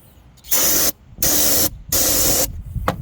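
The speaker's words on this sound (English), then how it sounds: "So we spray in here." Three loud, close bursts of aerosol spray go into the engine intake of a Volkswagen Passat that won't start, each hiss lasting about half a second with short pauses between.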